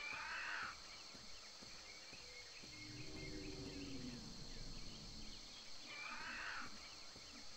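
Steady insect and cricket chirring fills a jungle soundscape in the video game Carnivores Legacy, with brief brighter buzzing bursts at the start and near the end and a low rumbling call through the middle, no talking.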